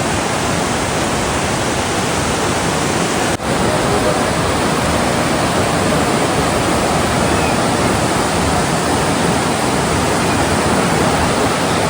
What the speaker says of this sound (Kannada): ಸ್ಪಾಟ್ ಅಂತಂದ್ರೆ ಮೇಲಿಂದ ದೂದ್ ಸಾಗರ್ ನೀರು ಬೀಳ್ತಿದೆ ಅಲ್ಲ